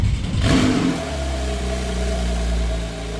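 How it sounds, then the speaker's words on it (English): A Porsche engine fires on a cold start: a brief cranking burst, then a loud rev that settles into a steady, rumbling high idle, close and without talk. "favorite part of our segments is we're going to do a cold start"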